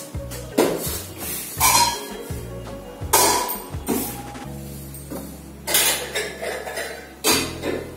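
Cooking pots and metal utensils being scrubbed and washed by hand in a home kitchen, with repeated loud clanks and clatters of metal vessels knocking together in irregular bursts and no talking.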